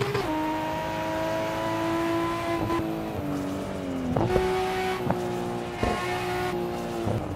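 A Nissan Skyline GT-R R34 turbo engine in Assetto Corsa accelerates hard, its steady drone holding through long pulls and dropping briefly at several gear shifts, loud and close with no talking.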